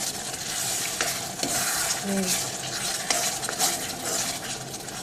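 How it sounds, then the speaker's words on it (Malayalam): Coriander sautéing in a pan for kadai chicken gives a steady, continuous sizzle with soft scraping strokes of a spoon stirring throughout, close and fairly loud, with no voices. "ഇപ്പോൾ രണ്ട് മിനിറ്റ് നേരം നമ്മൾ വഴറ്റി കഴിഞ്ഞ്"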